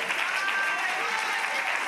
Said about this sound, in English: Y'all clap your hands for them, y'all.